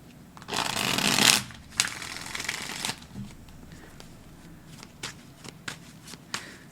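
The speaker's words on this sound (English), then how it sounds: "I promise you I shuffle the hell out of these" Tarot cards are shuffled in a loud, dense riffle burst near the start, followed by quieter scattered card slaps and shuffling taps.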